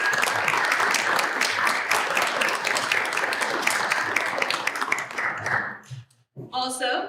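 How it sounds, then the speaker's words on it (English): Guests at a college mass communication awards banquet give a round of applause, sustained crowd clapping that fades out near the end before a voice begins speaking. "Let's acknowledge them with a round of applause."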